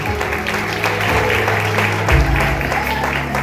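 A church congregation claps during worship, rhythmic hand claps mixed with music and crowd noise, fairly loud and continuous, with a low rumble near the end.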